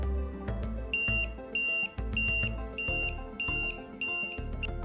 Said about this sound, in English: that timer alarm is very loud